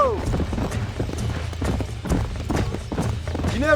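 Horse hooves clip-clopping in Red Dead Redemption on PC, a close, steady trot of hoofbeats with a short whinny at the start and again near the end, played under quiet background game sound.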